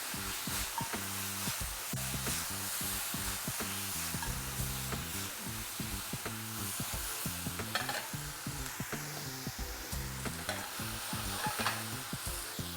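Vegetables stir-fried with soy sauce in a hot pan, a continuous sizzle with rhythmic scraping and stirring strokes throughout, close and steady with no talking.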